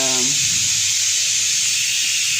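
Steady, loud steam hiss from a pressure cooker full of dal on the stove, continuous from start to finish, with a brief tonal sound at the very start.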